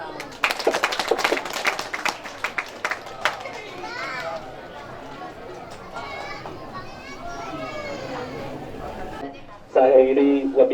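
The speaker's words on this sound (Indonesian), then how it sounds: "Tepuk tangan." Brief scattered clapping from a wedding crowd fades into children's chatter and voices, with a louder burst of sound near the end; people talk throughout.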